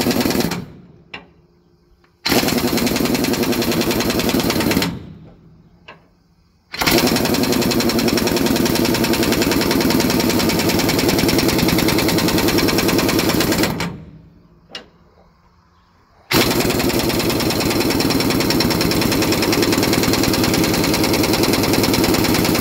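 A high-torque impact wrench hammers on Peterbilt low-air leaf suspension bolts in three long, loud, rattling bursts of several seconds each, separated by short quiet gaps.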